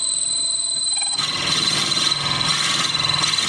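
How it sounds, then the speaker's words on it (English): A power drill on a lathe whines at a steady high pitch, then bites into a wooden pen blank with a rough, grinding boring sound that continues evenly. "so it's drilling nice and easy."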